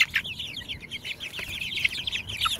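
Several chickens cluck and chatter continuously in a dense, busy flurry of short calls, fairly close, with no talking.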